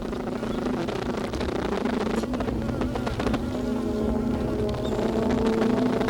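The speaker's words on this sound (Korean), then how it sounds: "꿀벌은 춤을 추고 소리를 낼 때 한 방향을 향하고 있음을 알 수 있습니다." A honeybee buzzing during its waggle dance in the hive, a close, steady droning hum that continues unbroken over a busy, rustling background.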